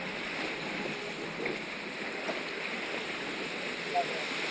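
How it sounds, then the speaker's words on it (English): Rushing water from a waterfall on the Timber Mountain Log Flume at Knott's Berry Farm, a steady broad splash and spray close around the rider, continuous and fairly loud. "Underneath the waterfall."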